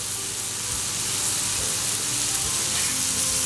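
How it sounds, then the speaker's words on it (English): Shrimp cook in a pan over medium heat, giving a dense, even sizzle that holds at a steady level throughout with no voices. "So you're going to let this shrimp cook."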